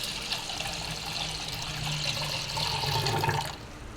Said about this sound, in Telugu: అలాగే వాటర్ కూడా వేసుకుందాము.